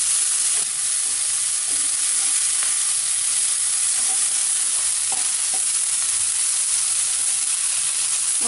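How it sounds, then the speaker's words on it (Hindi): Onions frying in a pan for vegetable upma, a steady close sizzle with occasional soft scrapes of stirring, no voices. "इन्हें आप चाहें तो हल्की आंच पर भी भून सकते हैं जब तक कि प्याज सुनहरा लाल हो जाए।"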